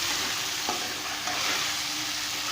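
Potato pieces fry in a pan with salt, chili, turmeric, black pepper, cumin and dried coriander, a steady close sizzle broken by a couple of soft scrapes as a spoon stirs them.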